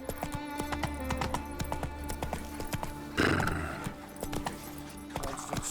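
Roach the horse galloping in The Witcher 3, steady rhythmic hoofbeats under game music and ambient noise, with a short louder rush of sound midway.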